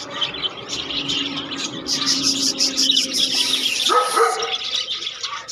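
A dog barks repeatedly in quick bursts, fairly close, while birds chirp and call steadily in the background.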